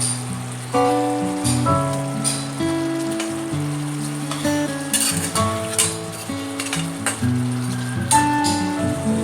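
Fish frying in a mustard spice masala hisses and crackles steadily throughout, sitting beneath louder background music.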